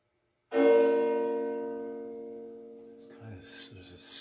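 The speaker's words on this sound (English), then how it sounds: "This is more of a sad bell." A single deep church funeral toll bell strike rings out and slowly decays, its long hum fading while faint voices and rustling start near the end.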